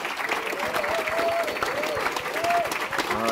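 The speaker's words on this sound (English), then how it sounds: "Round of applause." An audience at a live E3 2014 Q&A for Tom Clancy's The Division claps steadily, a dense wash of applause with a few whoops rising over it.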